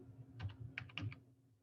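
Quiet keystrokes on a computer keyboard come in two short bursts of quick taps, close by, with no talking.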